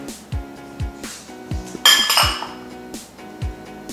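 A spoon mixes diced tomato, cilantro and lime juice into mashed avocado in a bowl, giving a few soft scrapes and light clinks against the bowl, with one brighter clatter midway, close and fairly quiet.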